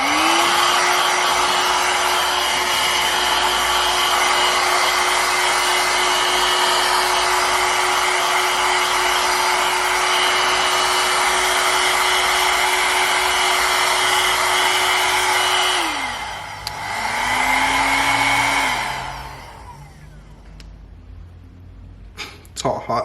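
A Babyliss Pro Travel FX blow dryer roars steadily on its high setting with a whining motor tone, then winds down and briefly revs again before cutting off.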